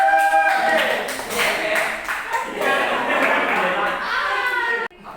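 Schoolchildren in a classroom clap for a presenting group, a close, uneven patter of hands mixed with children's voices and chatter, ending abruptly.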